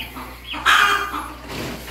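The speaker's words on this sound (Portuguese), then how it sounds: "As galinhas voltando ali." Chickens cluck close by on a small farm, a short burst of rising squawky clucks with a louder call in the middle and no talk over it.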